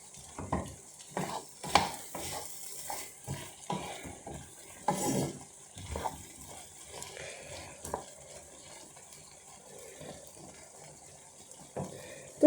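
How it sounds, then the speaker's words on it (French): Potatoes with lardons, crème fraîche and honey are stirred in a pan, giving soft scraping and clacking strokes in uneven rhythm over a quiet, faint sizzle. "on va mélanger le tout maintenant"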